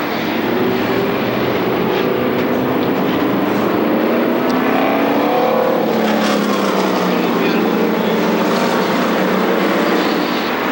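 Race car engines drone and whine in overlapping waves as the field laps under caution at Thompson Speedway, a loud, continuous roar with pitch sweeping as cars pass through turn three.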